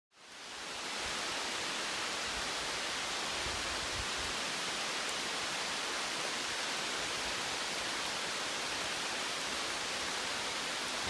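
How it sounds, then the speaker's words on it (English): Steady rain falling on a hiker on Vermont's Long Trail, a dense, continuous hiss that fills the whole stretch evenly and closely, with no talking. "Oh yeah, it's raining."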